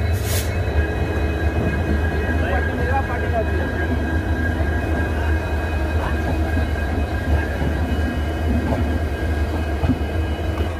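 The 12834 Howrah–Ahmedabad Superfast express running, heard from a general coach as a steady, loud rumble with rhythmic clatter and hum carrying through the whole stretch.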